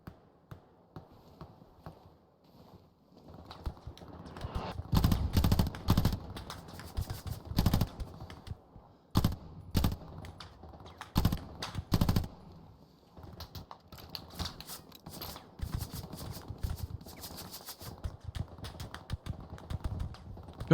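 Bursts of rifle and machine-gun fire in the World War II shooter Hell Let Loose during an assault on Foy, with dense, clustered cracks that rise and fall over a low, continuous battlefield rumble.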